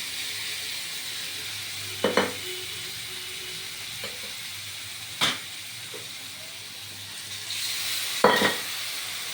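Cumin, coriander, dried red chilli, turmeric and ginger sizzle in hot oil in a pan for a pabda fish curry with potato and pointed gourd, a steady close hiss with a few sharper spits and stirring scrapes.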